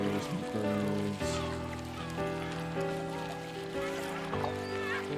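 Honking, goose-like bird calls ring out beside a lake in the walking simulator Purpose 1951, repeated cries layered over a sustained tonal music bed and soft ambience.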